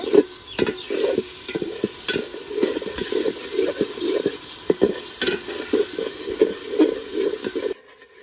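Spices with ginger paste fry for egg biryani, a steady sizzle under repeated rhythmic scraping of a stirring utensil against the pan, close and fairly loud, ending abruptly.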